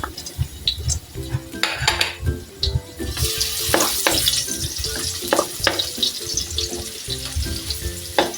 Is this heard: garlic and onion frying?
yes